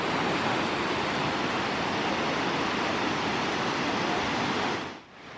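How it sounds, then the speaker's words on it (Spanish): The Cántaros river waterfall near Puerto Blest, Bariloche, a loud, steady roar of falling water filling the clip and cutting off sharply near the end. "Lo que vemos y escuchamos es el río de los Cántaros"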